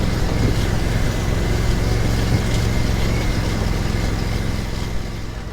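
An 8x8 amphibious ATV engine runs at a steady, loud mid-pitched drone while driving, holding level before easing off slightly at the end.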